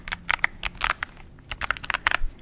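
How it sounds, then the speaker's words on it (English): Clicky old-style plug-in keyboard being typed on, a quick irregular run of sharp key clacks in two bursts with a short pause between, close and alone with no voices. "It's one of those, like, plug-in keyboards that look and sound like the old-style keyboards"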